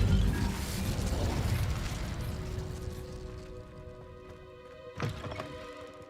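A heavy mechanical thunk with a burst of rumbling noise opens the spell cast, then fades into a low hum with a sharp knock near the end, typical of the Incendio fire spell in Hogwarts Legacy.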